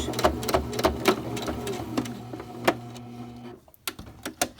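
A sewing machine back stitching a Christmas stocking: rapid mechanical whirring in short bursts with sharp ticks between, stopping for a moment before a few final clicks.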